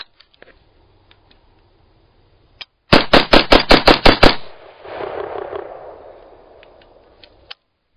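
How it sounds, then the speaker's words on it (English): A rapid burst of about seven loud gunshots from a weapon fitted with a Streamlight Protac HL light, evenly spaced and close, followed by a fading rumble of echo and then near silence. "we're going to fire a few rounds to make sure it doesn't go into the strobe or the low light function"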